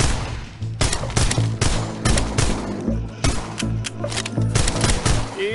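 Loud rapid gunfire in the VR zombie shooter Arizona Sunshine, with bursts of shots and clattering reloads in quick succession, close and dense throughout.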